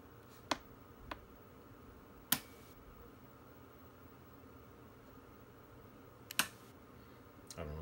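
Several sharp, isolated mechanical clicks ring out at irregular intervals against quiet background noise as a heavy-contact fan relay snaps on and off under DC power.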